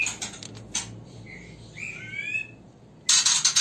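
White-rumped shama (murai batu) chicks in a cage give a few short, thin rising chirps, fairly close, between soft clatters and a sharp noise near the end.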